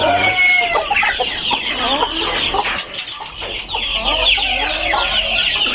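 Hens and roosters on a farm cluck and call steadily and loudly close by, with layered overlapping voices and a brief crow-like call rising among them.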